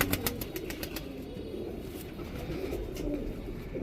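Border line pigeons at a loft in Jammu, cooing in soft repeated throaty calls close by, over a low background rumble with faint engine noise.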